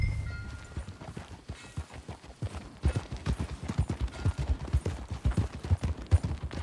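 Steady rhythmic hoofbeats of a horse at a trot in the video game Red Dead Redemption 2, clopping in a regular pattern, moderately loud with a faint background ambience.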